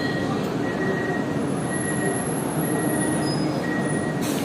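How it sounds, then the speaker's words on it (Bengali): Inside a Sealdah–Ranaghat AC local train, automatic doors close over a steady loud carriage hum, with thin intermittent warning tones and a brief broadband rush near the end. "অটোমেটিক গেট ক্লোজ হয়ে গেল আমাদের ট্রেনে"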